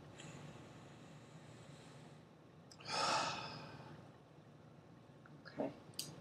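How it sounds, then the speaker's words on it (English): A patient breathes deeply during a chest and lung physical exam: one faint, close breath swells and fades, followed by a couple of brief soft sniffs and rustles in an otherwise quiet room. "One more deep breath."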